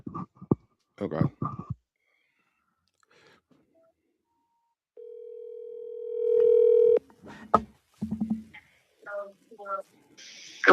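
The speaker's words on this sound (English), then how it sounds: "I heard like a dial tone" Steady electronic telephone dial tone, loud and sustained for about two seconds, with speech before and after it.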